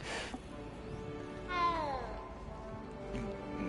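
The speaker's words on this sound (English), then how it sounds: "Petting a cat." A cat in the video game Hogwarts Legacy gives a single soft, drawn-out meow while being petted, heard close and fairly quiet over faint background ambience.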